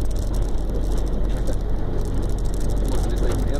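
A Mercedes-Benz LS1935 truck pulling away without using the clutch, heard as a steady loud engine rumble and whir throughout, with no pauses and no talk.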